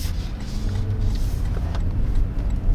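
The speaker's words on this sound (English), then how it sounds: "we're going to get ready to do a U-turn test" Steady low engine rumble and road noise from a full-size Toyota Land Cruiser driving slowly through a tight U-turn, a continuous drone with no talking.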